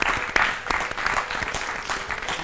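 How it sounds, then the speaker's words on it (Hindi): Loud applause from a student audience on a school quiz show, crisp dense clapping with sharp individual claps standing out, sustained evenly from start to finish. "हो जाए फिर से जोरदार तालियां."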